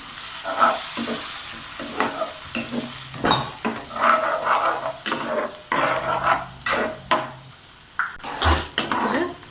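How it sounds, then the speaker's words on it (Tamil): A splash of water going into mushroom masala in a pan, with hissing sizzle, a spoon stirring and clinking against the metal vessel in irregular bursts, close up. "கொஞ்சமாக தண்ணி ஆட் பண்ணிப்போம்"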